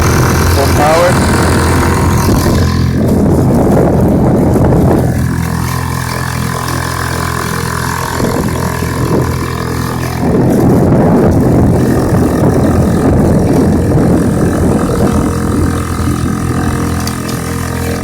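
A 2 horsepower Honda outboard motor running at full throttle on a canoe, a loud, steady engine drone throughout, close to the listener, with a voice speaking over it in stretches.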